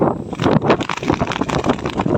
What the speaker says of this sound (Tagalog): Grabe ang hangin dito Nililipad ang pahay namin